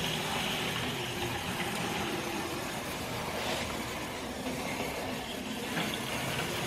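An HO scale model train runs steadily along its track, a continuous close whirring rumble with faint rail clatter throughout, no talking.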